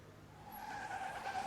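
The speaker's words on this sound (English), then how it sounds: "The cab swerves out of the way." A cab swerves in traffic with a brief, fairly faint tire skid and squeal that rises over road noise for about a second.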